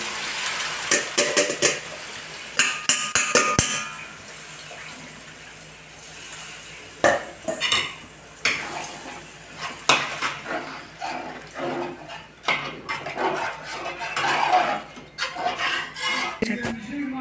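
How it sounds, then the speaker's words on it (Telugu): Tamarind juice is strained for Andhra fish curry with rattling dishes, clinking utensils and splashing water. The kitchen clatter is busy and irregular, close by, and occasional background noise mixes in. "చింతపండు రసం నేను ఈ విధంగా వడగట్టుకుంటున్నాను"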